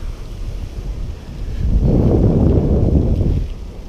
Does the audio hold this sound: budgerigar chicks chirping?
no